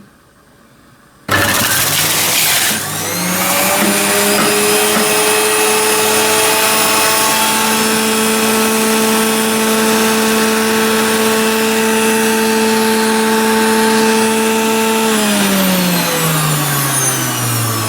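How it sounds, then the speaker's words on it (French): An electric juicer motor starts abruptly and runs with a steady loud whine and hum while parsley is pushed through it, then winds down near the end; no talking. "J'allume mon appareil et je pousse mon persil."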